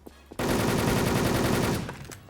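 Rapid machine-gun fire from the video game Wolfteam bursts in after a brief quiet and rattles steadily for about a second and a half before tapering off, loud and close.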